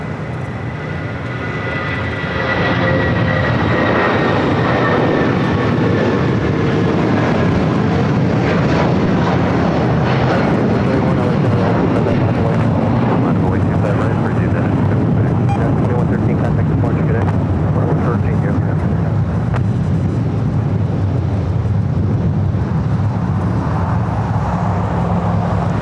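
An airliner rolls for takeoff down runway 25 on the south side of LAX, a loud, sustained engine roar building and holding from a distance, with a voice talking over it.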